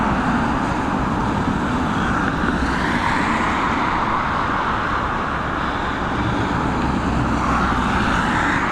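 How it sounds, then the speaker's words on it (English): A Boeing 777 airliner departs runway 28 at Dublin Airport, its engines a loud, continuous, broad roar that holds steady throughout without a break. "it's a great shot with this 777 departure. The sound from it is amazing."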